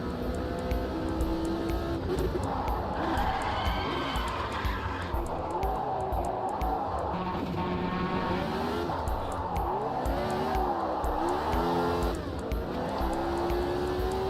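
A race car engine in a sim racing video game revs and shifts through gears, rising and falling pitch over a steady background, continuous and moderately loud.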